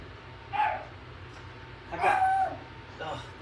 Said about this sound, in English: The dog heard me.